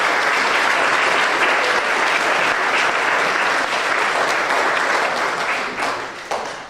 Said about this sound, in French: On peut applaudir toutes ces personnes.